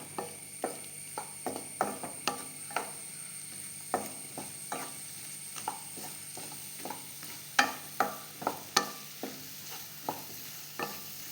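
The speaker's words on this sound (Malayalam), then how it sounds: "എന്നിട്ട് നല്ലോണം ഈ പഴത്തിനെ ഇതിൻ്റെ അകത്ത് അടിച്ചെടുക്കണം നമുക്ക്." Ripe plantains sautéed and mashed in a frying pan with repeated sharp spatula scrapes and taps over a soft sizzle, irregular strokes about every half second, close by and with no voices.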